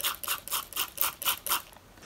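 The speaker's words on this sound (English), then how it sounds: "This will spray it down." Spray bottle misting water into a tarantula enclosure, seven quick evenly spaced hissing spritzes close to the listener, followed by a brief pause.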